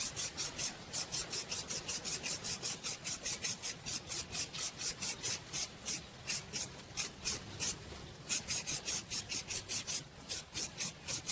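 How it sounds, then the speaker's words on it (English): One side of a floating aquarium is painted black with a brush, producing rapid rhythmic scratchy strokes, close and fairly loud, with a brief pause before the strokes resume. "the floating aquarium is just getting one side painted black"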